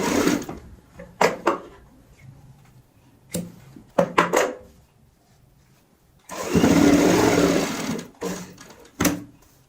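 Sewing machine stitching a folded strip onto a cushion cover runs in short bursts at first, then in one longer continuous run before a final quick burst, close and fairly loud.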